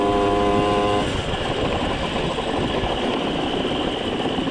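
A scooter engine drones steadily and strains as it revs under acceleration at -3 degrees, failing to gain speed, with a brief tonal whine at the start fading into rough, continuous engine noise.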